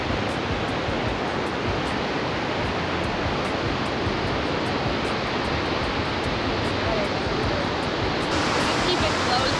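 River rapids heard from a canoe on La Petite Nation river at Les Portes de l'Enfer, a loud, constant broadband rush of whitewater close by, filling the scene without pause.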